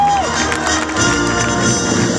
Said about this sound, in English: they're cheering for you.